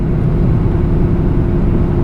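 Supercharged Dodge Challenger Hellcat running a startup tune, a steady loud low engine rumble and drone from inside the car while driving, with no voices.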